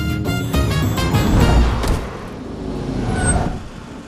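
A car comes to a stop, its engine and road noise loud and close, with a rumbling, mechanical clatter that eases and settles over a few seconds; no one speaks.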